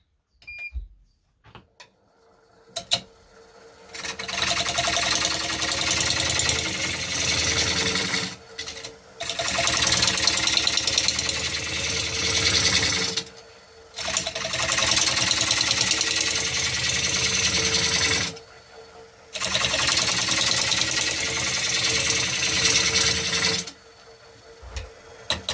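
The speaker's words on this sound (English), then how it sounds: "Spin it, make sure it's spinning okay, not hitting the tool rest." A wood lathe spins an ash and resin bowl inlaid with a motorcycle chain, producing loud, close whirring runs of several seconds each, separated by short pauses where it stops and starts again.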